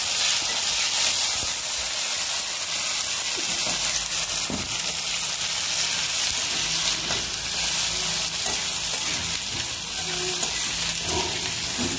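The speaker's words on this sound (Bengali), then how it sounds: "শুকনা মরিচগুলো ভাজবো" Dried red chilies fry in hot oil in a home kitchen, a steady loud sizzle running the whole time with occasional crackles and a few soft stirring knocks, no voices.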